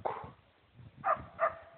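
A dog barks twice in the distance, faint and muffled, spaced apart against low background rumble.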